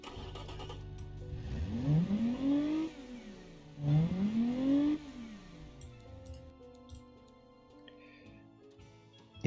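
An Alpine A310 engine in a driving game revs up twice in quick succession, pitch climbing with each rev before dropping back, then settles into a quieter idle with a synthetic, game-like quality.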